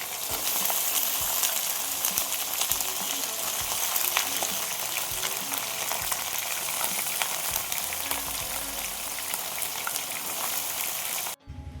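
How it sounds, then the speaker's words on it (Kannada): Eggplant fries with thick green chilies in a hot pan for vangi bath, a dense, continuous close sizzle with faint spatula scrapes and clinks, cutting off abruptly near the end. "ಇದನ್ನು ಅಷ್ಟೇ ದಪ್ಪ ಮೆಣಸಿನ್ಕಾಯಿ ಜೊತೆ ಚೆನ್ನಾಗಿ ಫ್ರೈ ಮಾಡ್ಕೋಬೇಕಾಗತ್ತೆ."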